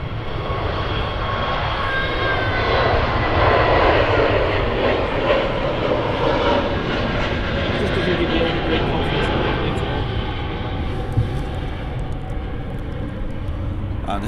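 A Turkish Airlines airliner rolls down the runway on takeoff at Manchester Airport. Its engines give a loud, steady broadband roar that swells and holds for the whole stretch, with a voice faintly underneath.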